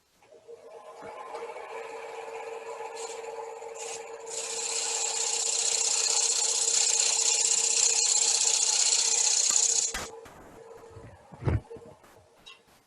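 A woodturning tool cutting a spinning wooden top on a lathe, a steady rough scraping whir that builds louder partway through, holds, then stops abruptly, followed by a couple of handling knocks.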